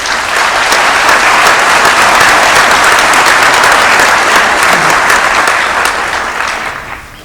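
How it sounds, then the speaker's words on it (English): Loud, dense applause from a graduation ceremony audience fills the space in a steady wash, tapering off toward the end. "Can we give them a round of applause"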